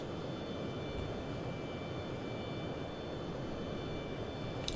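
F-14 Tomcat jet flying in the IL-2 1946 flight combat game, a constant loud engine roar that holds steady throughout without change.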